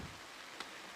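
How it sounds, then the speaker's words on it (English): Heavy rain pours down at an outdoor baseball game, a dense, steady broadband hiss of falling water with one brief louder splash and no voices. "as we head to the downpour that's getting everything wet"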